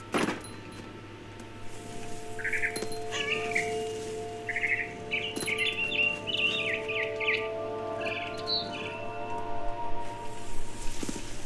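Bird chirps in What Remains of Edith Finch, a run of short bright tweets and calls scattered through the middle over a steady game hum, fairly close and moderately loud with no talking.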